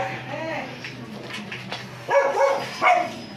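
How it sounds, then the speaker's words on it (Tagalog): A dog barks and yips a few times nearby amid background chatter and people talking. "may aso pala"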